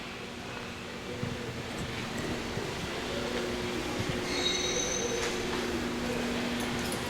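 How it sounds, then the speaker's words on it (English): A Haybuster HD-8 tub grinder powered by a John Deere 4039 110-horsepower turbocharged diesel runs steadily, a constant mechanical drone with faint high whines, no talking. "Haybuster model HD-8 tub grinder."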